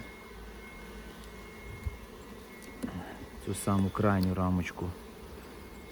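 Bees buzz and drone close by from an opened hive during a winter colony inspection while someone speaks quietly in Ukrainian, the buzzing swelling briefly louder near the end.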